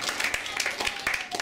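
Worship congregation applauding, a brisk patter of many hands clapping, fairly close and loud, with a voice speaking over the clapping.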